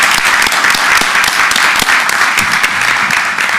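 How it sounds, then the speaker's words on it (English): Steady audience applause for honor graduates at a school board meeting, a dense even wash of clapping that holds for the whole stretch without letting up. "if we could just give them a round of applause"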